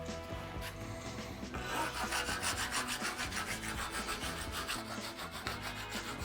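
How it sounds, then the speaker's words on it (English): A hand rasp scrapes the inside of a guava root in a steady run of close, rough back-and-forth strokes, loud and gritty, with a quieter start before the rasping settles into rhythm. "rasping the inside of that,"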